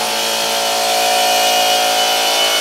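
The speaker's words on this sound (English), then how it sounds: "I'm now going to plug my air compressor into the inverter while the heater's running" An air compressor runs off a battery bank inverter while a heater is also running, heard as a loud, steady, dense mechanical drone close by, with no talking over it.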